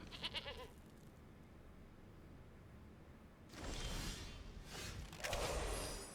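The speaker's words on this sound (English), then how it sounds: "Got a goat." A goat in Magic: The Gathering Arena bleats in a couple of brief, loud, wavering calls after a quiet stretch, preceded by a short burst at the start.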